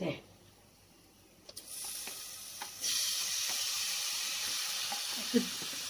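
Water from rinsing a bowl is poured into a hot pan of onion, capsicum and paneer over high heat, setting off a sudden loud sizzle that settles into steady close hissing.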